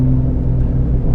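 A supercharged Pentastar V6 Jeep JK Wrangler driven hard gives a brief, loud, steady low engine rumble heard from inside the cab.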